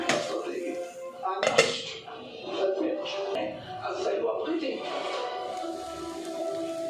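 A lid set onto a cooking pot of Kerala tuna fish peera, with metallic clanks and a sharp clatter of the cover landing, while a person talks over the kitchen sounds.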